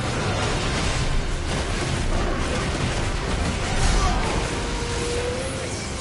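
A big in-game blast from Final Fantasy 16 combat, a broad rumbling boom that swells near the four-second mark over a constant roar of battle noise, loud and close.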